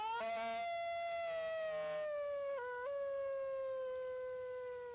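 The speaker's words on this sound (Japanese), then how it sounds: "you hear that amazing howl coming up from the depths of the forest" A wild dingo howls in the Australian bush, one long sustained harmonic howl that slides slightly in pitch and carries clearly through the forest for the full length.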